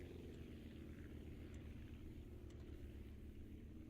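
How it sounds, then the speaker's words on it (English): Small propeller drone helicopter in the Aviassembly flight game, a low steady engine drone with fine rotor buzz holding even and fairly loud throughout, no talk over it. "there's actually this one that is a fully working little prop helicopter."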